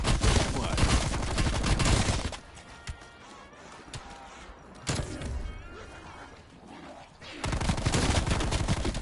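A new rifle firing in Call of Duty Cold War, with loud rapid bursts at the start and again at the end. A quieter stretch in between carries softer game sounds and a voice.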